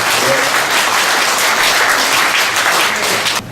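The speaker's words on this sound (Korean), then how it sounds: "박수로 축하해 주시기 바랍니다" Audience at a book launch celebration for an essay collection breaking into loud, dense, continuous applause that fills the room evenly before cutting off abruptly at the end.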